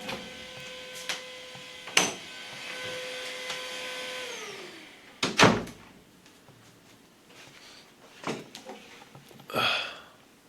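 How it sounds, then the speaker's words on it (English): A loud vacuum cleaner runs in another room, its steady whine winding down in pitch and cutting out, with scattered knocks and thuds before and after. "loud ass vacuum going on in the background"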